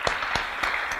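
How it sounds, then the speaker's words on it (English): Awards ceremony audience applauding, a dense continuous wash of many hands clapping together with a few sharper individual claps standing out. "So we want to give a round of applause to them too."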